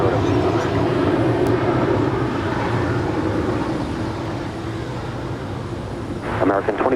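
An airliner rumbling on runway 25 right at Los Angeles International Airport, a loud, steady, broad engine roar that eases slightly over time, with radio voices heard briefly near the end.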